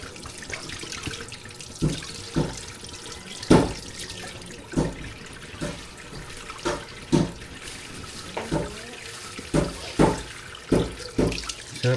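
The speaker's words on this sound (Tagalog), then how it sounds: "Sarap maghugas sa ang plato pagka ganito, unlimited water." Tap water runs during dishwashing outdoors, a steady close stream broken by repeated splashes and clatters as plates are rinsed at an irregular rhythm.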